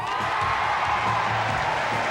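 A large crowd at London's Millennium Dome cheers for Miss India at a beauty pageant, a dense, distant roar of cheering and clapping that holds steady throughout.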